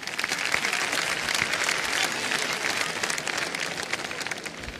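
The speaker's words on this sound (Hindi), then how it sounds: "तालियां बज जानी चाहिए इसके लिए." Studio audience at the Kaun Banega Crorepati quiz show claps steadily, a dense sustained wave of applause filling the whole stretch without talk.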